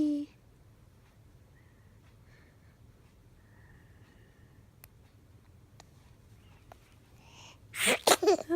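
A baby sneezes near the end, a sharp loud burst with a quick follow-up, after several seconds of quiet room background.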